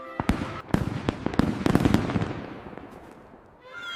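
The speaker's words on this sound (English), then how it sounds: "I've never seen fireworks this bright." Cartoon fireworks go off in a rapid string of sharp bangs and crackles, bunched at the start and thinning out as the bursts fade into a soft fizzing tail.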